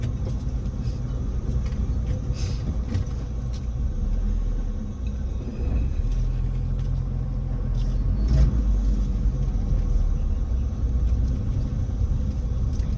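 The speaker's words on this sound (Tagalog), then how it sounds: "grabe ka traffic guys" Heavy road traffic rumbles steadily and loudly, cars and engines droning throughout with no one speaking.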